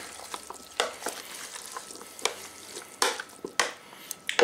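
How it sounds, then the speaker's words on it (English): Pasta salad being stirred after about half a cup of dressing is poured on, giving scattered wet scrapes and clinks of a utensil against the bowl, close and fairly quiet, with no talk. "And stir that up."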